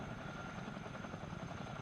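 A CH-47D Chinook helicopter in a Miltech Simulations flight game drones with a steady, dense rotor and engine roar, loud and unbroken throughout.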